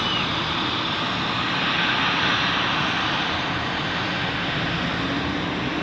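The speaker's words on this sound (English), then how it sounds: "here we have a Bombardier Glex or Global Express" A Bombardier Global Express business jet at Zurich Airport gives a steady, broad engine roar that holds at an even level throughout, with no voices.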